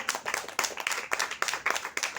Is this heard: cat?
no